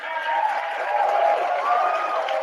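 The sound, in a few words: audience applauding and cheering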